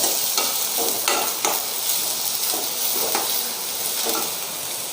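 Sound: chopped onion frying in coconut oil

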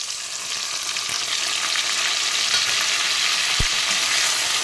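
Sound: frying tomato with ground spice paste in pan

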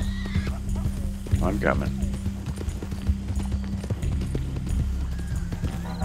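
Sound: horse neighing and hooves clip-clopping in video game Red Dead Online

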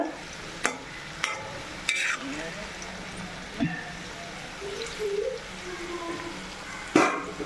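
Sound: pickle ingredients sautéing and stirring in pan

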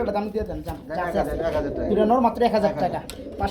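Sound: black racer homer pigeons, two males fighting

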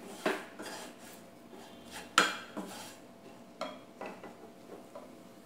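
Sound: sautéing spice powders in a pan for chicken

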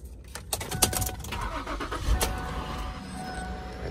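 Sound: Ford Edge engine cranking up

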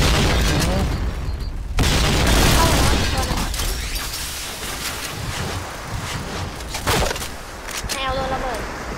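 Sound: explosion in the video game Point Blank

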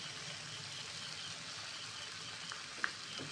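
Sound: stirring curry with cashew and poppy seed paste in pan

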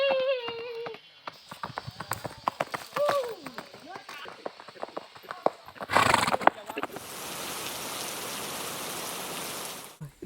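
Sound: horse neighing and hooves while being ridden bareback

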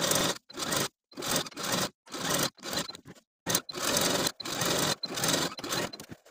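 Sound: sewing machine sewing rows of shirring on fabric

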